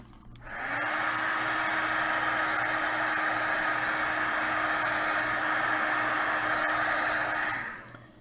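A heat tool blows hot air to dry alcohol ink on an art card, a steady close whirring roar that switches on, holds evenly for several seconds and then cuts off.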